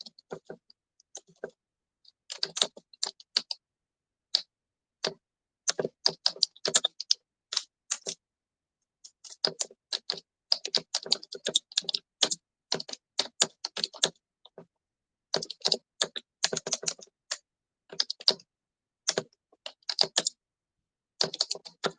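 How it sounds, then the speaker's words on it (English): Fast typing on a computer keyboard in a workshop room, close and clear, with bursts of key clicks separated by short pauses. "That's Vyashna's keyboard."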